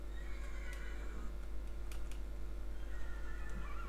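Horses in the Minecraft video game neigh and whinny in short bursts over a steady low hum, with faint clicks and keyboard-like tapping in the background.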